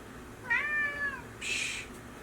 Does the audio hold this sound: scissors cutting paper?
no